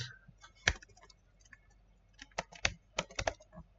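Computer keyboard keys tapped in short, uneven bursts, with a few louder clacks standing out among softer clicks; close and fairly quiet with no voices.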